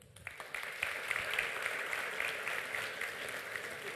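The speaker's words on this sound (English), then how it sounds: "So a big round of applause for Venki, and Iqbal to please come up on stage" A conference audience at a print industry summit breaks into sustained applause, a dense wash of many hands clapping at moderate distance that swells quickly and holds steady.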